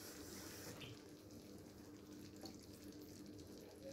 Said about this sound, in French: Je vais rajouter un petit fond d'eau.